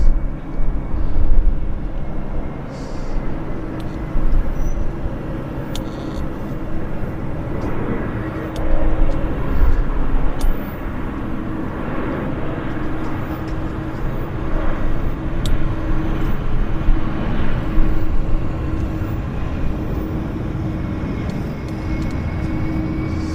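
An American Airlines Embraer jet lands at Vancouver airport, a broad steady roar of engine and rollout noise rising and falling over about twenty seconds, with faint outdoor background and no talk.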